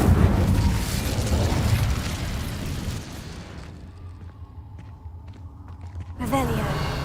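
A fiery blast from the Incendio spell in Hogwarts Legacy erupts with a loud whooshing roar that fades over a few seconds, followed by quieter ambience, with speech nearby.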